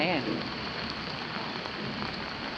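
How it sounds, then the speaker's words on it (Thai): Rain pours at the entrance of a temple in Suphan Buri, a dense, continuous hiss of drops, while a voice is heard briefly at the very start. "ตอนนี้ฝนตกฝนเพิ่งตกตอนทางเข้าวัดเอง"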